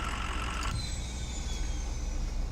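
Truck engine in SpinTires MudRunner running at a steady low rumble, close and continuous with a faint hiss above it and no talk.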